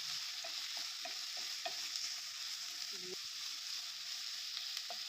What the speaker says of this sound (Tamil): சேர்த்துட்டு ஒரு 2லேருந்து 3 நிமிஷம் நல்லா வதக்கி விடுங்க.